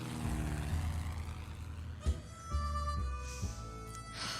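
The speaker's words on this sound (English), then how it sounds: "I heard the plane." In the video game 60 Seconds! Reatomized, a propeller airplane drones past, a faint steady engine hum with a couple of soft thuds over the top.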